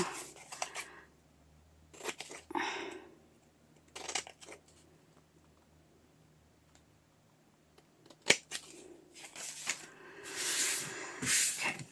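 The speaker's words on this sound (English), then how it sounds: "Probably should be using my sticky scissors for this" Scissors cutting paper while making collaged stamped tags: short, faint snipping bursts spaced a couple of seconds apart, with a louder rustling stretch near the end in a quiet room.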